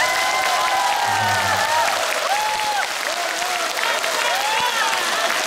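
A concert hall audience at a televised big show applauds, a dense, sustained clapping that fills the room, with faint voices mixed in.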